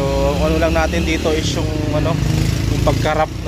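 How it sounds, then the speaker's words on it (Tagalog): A KTM Duke 200 motorcycle engine idles steadily and loud throughout, with someone talking over it close to the microphone. "maganda yung tunog ng makina"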